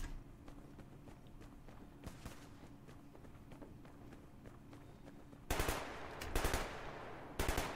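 A weak gun in the Survarium shooter fires in short bursts, starting as faint distant-sounding shots under footstep-like rustle, then turning into loud close rapid volleys toward the end.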